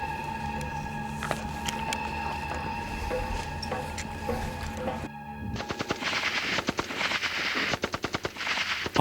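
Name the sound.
gunfire on a military firing range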